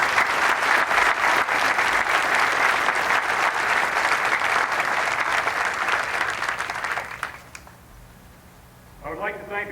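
Sustained, loud applause from an audience at a military change of command ceremony at Fort Campbell, 101st Airborne Division, fading out near the end before a voice begins.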